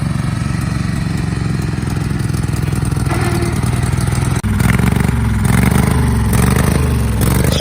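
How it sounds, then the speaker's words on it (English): A garden tractor's small engine, just revived after sitting for ages and running on choke, chugs loudly up close, then revs up sharply partway through and holds a higher, rougher roar. "I think you just rev it up."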